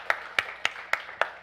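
Applause from a church congregation comes as five sharp, evenly spaced claps in a slow rhythm, fairly close and alone.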